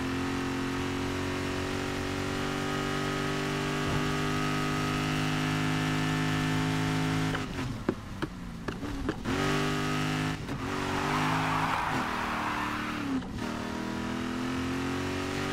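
Racing car engine in Need for Speed Heat holding a steady high drone, then a burst of revving and gear-change dips midway followed by another surge, loud and close with no talking.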